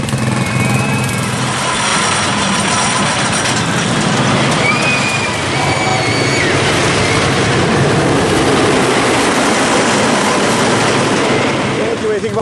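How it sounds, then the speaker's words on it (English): The Racer, an old wooden racing roller coaster at Kings Island, gives a continuous loud rumbling roar of a train rolling over its track, a steady, broad noise with no clear breaks. "we're looking at the Racer. It's one of the oldest roller coasters in the world."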